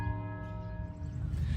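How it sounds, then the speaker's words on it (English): Church bells ring at Seminary Ridge on the Gettysburg battlefield, a sustained tonal peal with lingering overtones, moderately distant and alone, over faint outdoor ambience. "Listen to those church bells ring."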